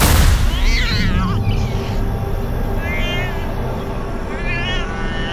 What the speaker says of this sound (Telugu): ఇందుని ఒక నల్ల పిల్లి వెంబడిస్తూ ఉంది